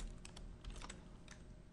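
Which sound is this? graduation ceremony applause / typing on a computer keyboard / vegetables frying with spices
typing on a computer keyboard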